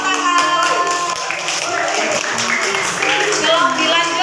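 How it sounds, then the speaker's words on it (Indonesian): A class of students claps their hands for a group that has just finished presenting in a classroom. The clapping is steady and fills the whole clip, mixed with children's voices and some singing. "Kita kasih tepuk tangan."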